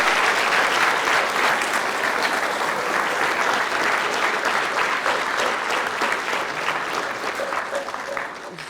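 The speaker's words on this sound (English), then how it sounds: "Somebody's clapping sounded really weird." Dense applause from an audience continues steadily throughout, loud and close, tapering slightly at the end.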